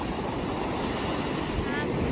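Steady roar of surf and crashing waves on a beach at Liwliwa, Zambales, with wind rushing across the microphone, continuous and loud throughout.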